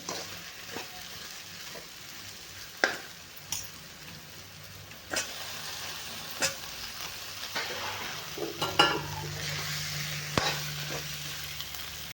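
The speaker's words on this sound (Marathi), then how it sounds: "आणखी थोडा वेळ आपण ह्याला असेच फ्राय करून घेणार आहे हलवून हलवून" Stuffed green-chili eggplant fries in masala, with a soft steady sizzle under sharp irregular scrapes and taps of stirring, fairly quiet and close.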